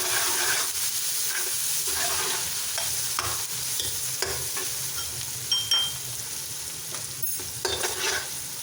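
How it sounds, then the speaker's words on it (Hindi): Browned onions with a spoonful of ginger garlic paste fry in a pan, a loud continuous sizzle and hiss with a spoon stirring and scraping through it, close and without voices. "इसको अच्छी तरह से भून लें।"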